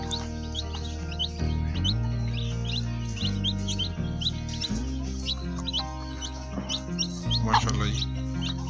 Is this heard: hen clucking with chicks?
yes